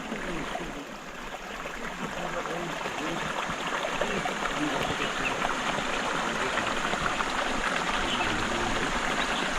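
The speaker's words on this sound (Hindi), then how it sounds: "अंदर छोटी सी एक आबशार सी बनी हुई है" Spring water spills in a small waterfall into a pond on a hilltop near Islamabad, a continuous rushing stream of water heard fairly close, with a voice speaking faintly underneath.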